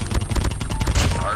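Rapid automatic gunfire in Call of Duty Mobile, a dense burst of quick repeated shots over about a second and a half, loud and close.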